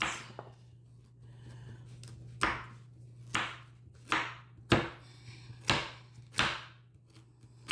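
Carrots being chopped for a lamb stew, heard as a series of sharp knife strikes on a cutting board that are loud and close. The chops come at an irregular pace, roughly one per second, with a low hum in the background.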